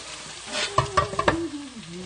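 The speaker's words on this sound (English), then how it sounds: "So I am going to dump my eggplant into the magic pot of onions and tomatoes." Chopped eggplant tumbles into a pot of cooking onions and tomatoes for ratatouille, a few quick wet thuds and scrapes over a low sizzle.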